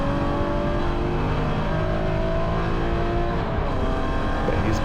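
A BMW E9X Spec race car at Gingerman accelerates hard out of a corner, its engine a loud, steady, close roar of onboard engine and road noise that never lets up.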